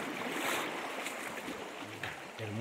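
A crystal-clear mountain creek as wide as a big river in Boyacá, Colombia, rushes steadily, a constant broad wash of flowing water close by with no talking.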